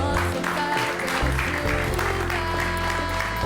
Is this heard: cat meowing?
no